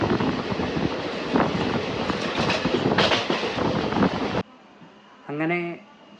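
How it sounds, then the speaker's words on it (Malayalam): A moving train, one of several on a Kerala rail journey, gives a dense, loud rolling roar with rhythmic rail clatter for about four seconds, then cuts to a quieter stretch with a brief tonal squeal or horn-like wail. "മറ്റൊരു ട്രെയിനിൽ കയറി"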